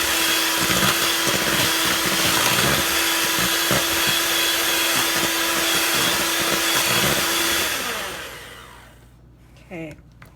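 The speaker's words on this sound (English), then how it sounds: "We're gonna give it another mix." Banana bread batter with cannabutter mixed by an electric mixer, a loud steady whirring drone that runs for about eight seconds before winding down to quiet, with faint speech near the end.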